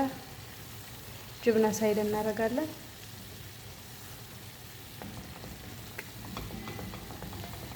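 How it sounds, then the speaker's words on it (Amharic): Carrots frying in a pan and being stirred, a soft sizzle running low throughout, with a brief burst of speech near the start. "በዚህ መልኩ ጥብስ እናደርጋለን።"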